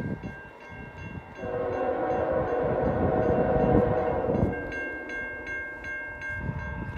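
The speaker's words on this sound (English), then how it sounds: "here comes a northbound CN Intermodal Train on McCowan Road." A northbound CN intermodal freight train led by a GEVO locomotive sounds a K5HL horn at a McCowan Road crossing, with long, loud chords over the rumble of the passing train and a trailing blast as it rolls by.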